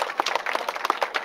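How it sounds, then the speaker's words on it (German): Spectators at a falconry show arena applaud a departing bald eagle with brisk, fairly close clapping, a steady patter of overlapping hand claps at moderate loudness. "Dann geben wir mal einen großen Applaus unserem Weißkopf"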